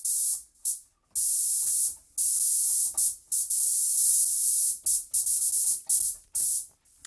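A synthesizer preset in Studio One gives bursts of high, bright hissing buzz like a swarm of insects, chopped into uneven pulses with short silent gaps between them.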